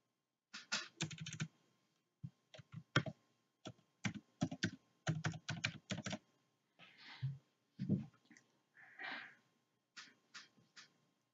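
Keys on a computer keyboard clatter in quick irregular bursts as a password is typed, close and fairly quiet, with short pauses between clusters of keystrokes.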